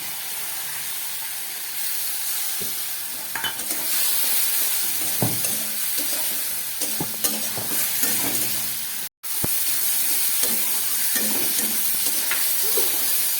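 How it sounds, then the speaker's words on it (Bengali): Potatoes fry in a pan with a ground paste of dried red chili and cumin, a steady close sizzle and hiss throughout, broken by stirring scrapes and clacks and one brief dropout, with no talking. "জিরে লঙ্কা দেবার পরে খুব ভালো করে আমি ভেজে নিলাম আলু আর মশলা"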